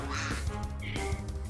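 A duck quacks twice in quick succession, loud and close, with a nasal, buzzy tone and nothing else heard alongside.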